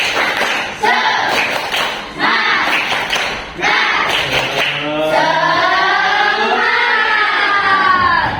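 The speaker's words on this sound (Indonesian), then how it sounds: "Tepuk semangat." Schoolchildren at SDN Mergosono 1 perform a tepuk semangat clapping chant: loud, rhythmic group claps in quick patterned bursts, with the children's voices chanting along toward the end.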